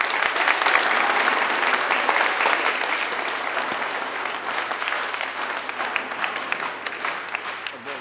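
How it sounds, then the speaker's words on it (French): Warm, steady applause fills a church as the congregation thanks a departing priest after Sunday Mass, continuous clapping from a sizeable crowd that gradually softens over eight seconds. "On peut l'applaudir déjà ?"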